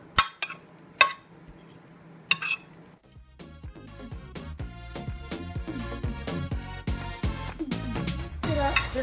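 A spoon or utensil clinks sharply against a bowl a few times, then a steady wet, squelchy mixing of pollock salad builds, close and continuous, with no talking.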